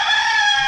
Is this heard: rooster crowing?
yes